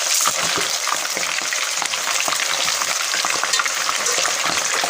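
Chicken leg pieces fry in hot oil with a loud, dense, continuous sizzle and crackle, heard close up throughout with no talking.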